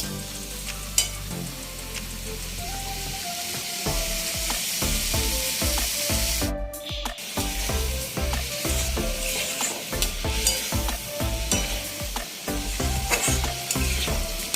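Spice paste frying with a splash of water for an amodi fish curry, a steady close sizzle with frequent scraping stir strokes throughout and a brief pause midway.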